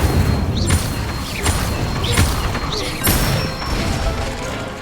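Wand spells cast in the video game Hogwarts Legacy land as four magical bursts, each with a swishing whoosh and a bright crackle, spaced about a second apart over steady game ambience.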